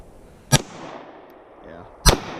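Grand Power K100 pistol fired twice, about a second and a half apart, each shot a sharp, loud crack that decays quickly outdoors.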